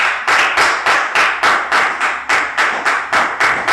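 A church congregation claps together in worship, a steady rhythmic beat of about three claps per second, loud and close, with no voices.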